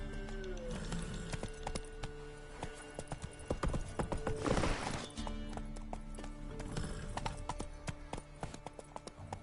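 Geralt's horse Roach trotting in The Witcher 3, hooves clip-clopping in a steady rhythm at close range, with a brief whinny partway through and no talk.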